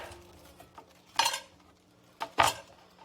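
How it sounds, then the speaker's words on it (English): A knife cuts thin slices of cabbage for sauerkraut in two distinct crunchy strokes about a second apart, each with a crisp rasp on the board, against near silence. "And now we're just going to cut the cabbage."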